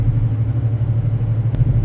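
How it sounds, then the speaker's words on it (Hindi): A heavy truck's engine labours as it climbs a mountain road in Arizona, giving a steady, loud, deep drone that holds without break. No voices are heard over it. "ट्रक ने यहाँ पे जोर लेना स्टार्ट कर दिया है। शोर सुन रहे जी आप।"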